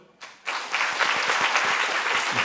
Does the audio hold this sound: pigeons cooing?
no